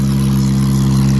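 A Mahindra 585 DI Plus tractor engine runs steadily with a deep, continuous low hum, close and loud without any change in pace, while pulling an 18-disc harrow in a field.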